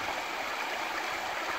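A salmon river flows through boggy moorland at Cape Wrath, a soft, steady rushing and gurgling of water heard faintly and evenly throughout, with no voices.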